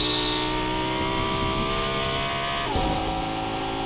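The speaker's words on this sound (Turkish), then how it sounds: "Araba çok güzelsin de çok ses çıkartıyor." Car engine in the video game Fortnite droning steadily throughout, with a dense harmonic hum and a brief shift in pitch near the end, loud and alone without talk.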